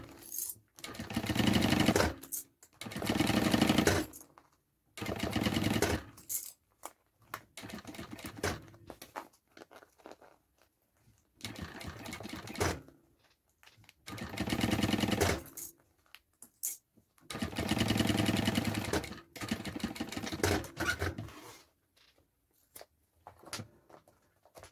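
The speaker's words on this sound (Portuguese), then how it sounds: "Pode costurar mais na beiradinha, não precisa entrar muito não" A sewing machine stitches a small fabric mini backpack in loud bursts of rapid mechanical whirring and clatter, each lasting a second or two, separated by short silent pauses.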